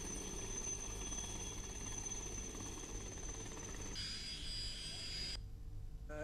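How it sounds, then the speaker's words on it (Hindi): An Air Force helicopter from the Halwara air station sits on the grounds of a school in Malerkotla, Punjab, after an emergency landing. Its engine gives a continuous loud whine over a heavy rumble, and the tone shifts near the end. "एयरफोर्स दे हेलीकॉप्टर नूं स्कूल च उतारा गया"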